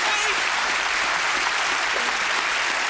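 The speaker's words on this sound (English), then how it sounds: "You're getting applause already with my look" A television studio audience at a comedy talk show bursts into dense, sustained applause, loud and even throughout with faint voices barely surfacing underneath.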